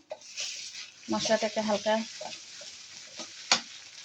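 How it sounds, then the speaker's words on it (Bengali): Onion frying with ginger paste and cumin paste added, a close sizzle with stirring scrapes and a sharp spatter near the end, while a voice speaks over part of it. "পেঁয়াজটা হালকা ভাজার পরে এখানে যে আদা বাটা আর জিরা বাটা দিয়ে দিলাম"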